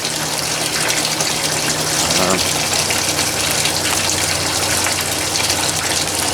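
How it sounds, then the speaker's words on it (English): Constant rush of water pouring from a pipe into a garden tray, splashing from height into standing water, loud and close, with a soft voice faintly beneath. "Bottom of that tray is just in the water, and the right hand side is now fully flowing."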